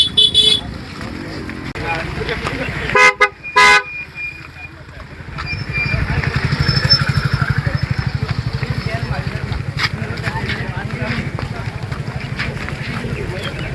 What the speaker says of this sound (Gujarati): તમે ટ્રાફિક જોવો પાછળ ફૂલ ટ્રાફિક છે